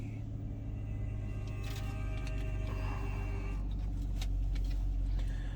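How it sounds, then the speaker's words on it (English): A low, steady engine rumble fills the closed interior of a 2020 Chrysler 300 S sedan, quiet and even, with faint road noise and no talking. "Very quiet in the cabin of this vehicle when the car is running."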